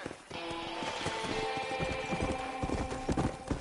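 Rapid clip-clop of hooves from a galloping horse in Red Dead Redemption on PS5, loud and close, with a busy game soundscape and an occasional whinny mixed in.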